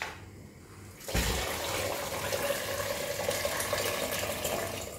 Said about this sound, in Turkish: Sıcak su ekleyeceğim.